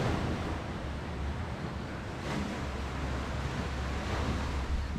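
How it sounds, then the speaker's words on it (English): Ocean waves surge into a beach cave, a steady washing roar with a swell midway, close and loud with wind buffeting the microphone; no one speaks. "And the waves come up in here"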